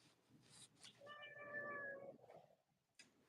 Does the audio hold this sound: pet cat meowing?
yes